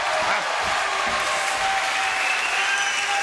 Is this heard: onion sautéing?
no